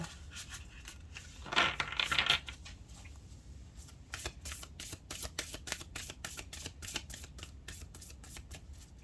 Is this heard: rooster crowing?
no